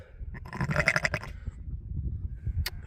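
A sheep on an Irish farm bleats once in a wavering, nasal call at moderate distance, followed by low rustling and a sharp click over faint farmyard background.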